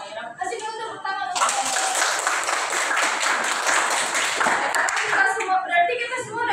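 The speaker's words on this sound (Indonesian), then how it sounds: "Kasih dulu tepuk tangan." A classroom group claps together for several seconds, dense and fairly close, with children's voices before and after the burst.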